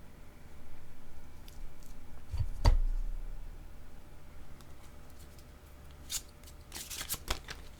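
A yellow card is pulled from a deck: soft shuffling and papery slides, one sharp snap of a card, then scattered light flicks and taps, all quiet and close.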